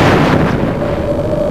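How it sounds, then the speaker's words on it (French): First World War artillery fires shells in the final hours before the November 1918 armistice, a loud, close, rumbling blast that rolls on and slowly decays. "ils vont tirer autant d'obus qu'ils peuvent."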